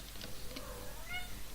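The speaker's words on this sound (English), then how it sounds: "And my cat has joined." A pet cat gives a couple of faint, high-pitched meows that rise and fall in pitch, heard under a steady background hum.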